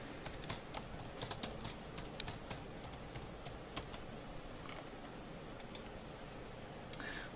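Computer keyboard typing in a classroom on a rainy day, an irregular run of light, close clicks and taps that bunch together early and thin out later, with faint room noise and no talk.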